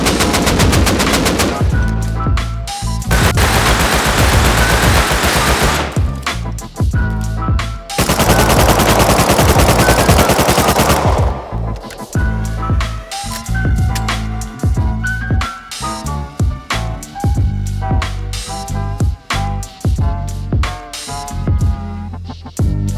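Automatic weapon sprays in Rust Console, firing as full-auto recoil bursts: long loud sustained volleys, then shorter choppy bursts with brief gaps, no talk.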